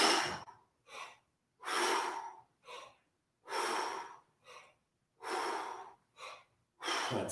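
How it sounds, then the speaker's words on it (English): Breathing during slow squats in a vocal warm-up: long audible exhales alternate with short, sharp inhales in a steady repeating pattern, close and clear, with no talk. "we exhale first, and then we'll inhale as we squat, and then exhale on the way up"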